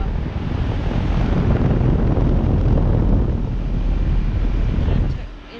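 A 2007 Carrier Comfort Series 3-ton heat pump with a GE fan motor and blanketed scroll compressor runs in heat mode, giving a loud, steady broadband rush that cuts off near the end.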